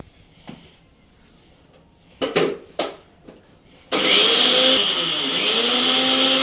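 A few light clatters give way to a mixer grinder (mixie) whirring loudly and steadily as it grinds cooled roasted ingredients into a fine powder, a close, continuous roar that runs to the end.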